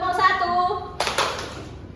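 A group of children claps twice in a tepuk satu clap game, two sharp, close hand claps in quick succession following a brief spoken call.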